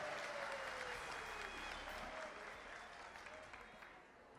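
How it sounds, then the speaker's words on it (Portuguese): A hall of delegates at the opening ceremony of a state teachers' union congress applauds Professor Alduir José Klamer. The dense, sustained clapping is captured at low level and fades slightly toward the end. "Salva de palmas para o professor Alduir."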